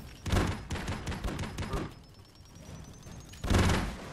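Bursts of rapid gunfire in the video game Broforce, loud and punchy, with a quieter pause in the middle before another volley erupts.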